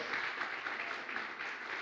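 Weak applause from a church congregation during a sermon, a steady sustained patter of clapping at moderate distance with no voices over it.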